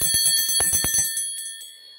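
A bell with holes in its body is struck in a quick run of about eight bright metallic rings, then left to hum and fade out alone over the final second, its high tones lingering close and clear.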